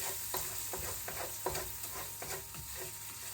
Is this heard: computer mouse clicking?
no